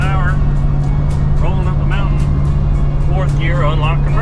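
A car running on E85 fuel cruises in fourth gear with the torque converter unlocked, giving a steady, close engine drone beneath someone talking throughout.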